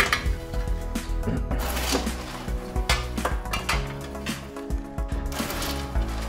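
Freshly popped popcorn from a Great Northern popcorn machine pours into a bowl, a steady close rustling clatter that runs without a break, with faint mechanical rattling underneath.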